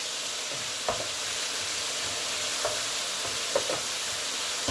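Onions and tomatoes cook in a pot with a soft, steady sizzle and faint crackling. A few light stirring knocks come through, close and alone, with no talking.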